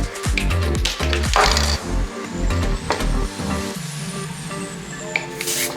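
A rattle can of spray paint sprays in short, loud hissing bursts with sputters and brief gaps during work on a BMW E30 M3 build. One longer, steadier spray comes near the end.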